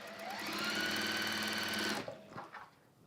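Sewing machine stitching a short seam across fabric, a loud steady whirring run for about two seconds that stops abruptly, followed by a few faint clicks and handling noises, close with no talk.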